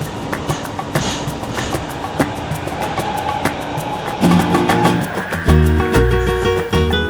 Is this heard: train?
yes